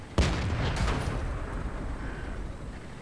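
A tank gun fires in the World of Tanks video game: one sharp, loud blast near the start, then a fainter second report, with a long rumbling tail under it.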